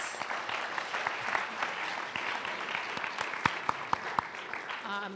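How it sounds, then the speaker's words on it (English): Lecture audience applauds after an alumni event announcement, a dense patter of many hands clapping at moderate distance, with a few sharper individual claps standing out near the end. "So big round of applause for that."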